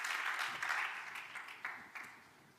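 An audience at a public talk in Spanish applauds in brief, fairly faint clapping that fades out within a few seconds.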